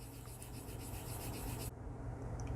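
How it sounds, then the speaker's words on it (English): Steady, continuous abrasive rubbing of sanding on a hard plastic Bandai HGUC RX-78-2 Gundam model kit seam, close and even, with no talking. "I'm pushing down hard enough to make good contact and get some sanding going."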